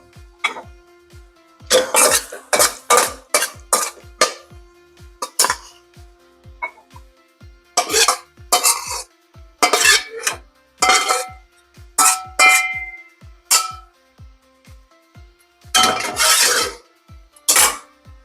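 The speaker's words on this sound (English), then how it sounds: "I'm going to go ahead and just toss this into a bowl here" Bowls and utensils clatter in a home kitchen as a tofu dish is tossed into a bowl, giving sharp, irregular knocks and scrapes in bursts with quiet gaps, close by and without talk.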